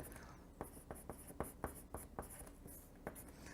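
Quick handwriting strokes on a surface during a fraction comparison math lesson, a rapid series of short scratchy taps and pen strokes, close and fairly quiet, with no talking.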